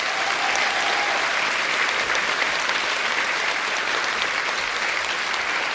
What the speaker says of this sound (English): So big round of applause for all of those people there.